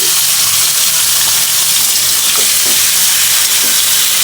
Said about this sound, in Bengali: তেল দিয়ে দিলাম আর এখন হচ্ছে মাছ মশলা আলু সব একসাথে দিয়ে দিচ্ছি